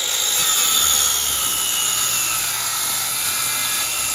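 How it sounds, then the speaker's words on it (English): Circular saw cutting across old plywood decking on a pontoon boat, a steady loud high-pitched whine and rasp held unbroken throughout, close by with no talking. "In order to get all these off, being that some are in the middle, I just took a circular saw,"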